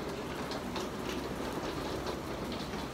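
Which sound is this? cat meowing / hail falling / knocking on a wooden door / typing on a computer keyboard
hail falling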